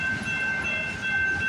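A train rolls past on railroad tracks at night, a steady loud rumble with a high metallic whine of wheels on rail held throughout.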